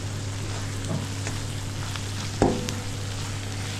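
Spices with a pinch of garam masala lightly frying in a pan, a steady soft sizzle throughout with a single faint clink of a utensil midway, close and alone.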